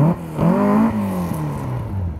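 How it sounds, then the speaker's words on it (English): A car's engine is revved at an outdoor show-and-shine event, a loud near blip climbing then settling into a falling, fading rumble, with no voices over it. "Give it a rev"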